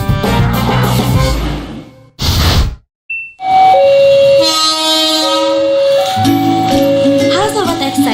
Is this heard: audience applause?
no